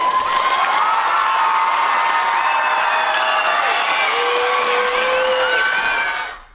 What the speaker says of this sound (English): a beaming Emma, who stands on stage while her schoolmates cheer